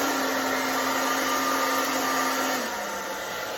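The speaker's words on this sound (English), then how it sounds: "keep the blow dryer moving." A blow dryer heating the binding on an archtop guitar runs as a steady close whine, its pitch dropping slightly as the airflow shifts partway through.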